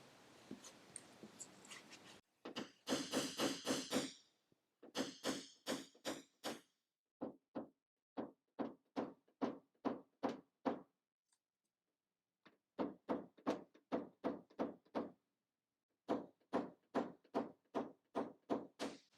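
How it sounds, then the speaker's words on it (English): An old 8-ounce Craftsman hammer taps down a buckle dent in a Toyota RAV4 car door, giving close, crisp metallic taps in quick bursts of evenly spaced strikes separated by short pauses. "So I'm going to do a little bit of tapping down and then a whole bunch of pushing."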